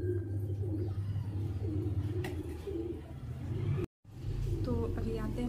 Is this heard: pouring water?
no